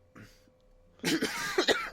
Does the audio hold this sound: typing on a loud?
no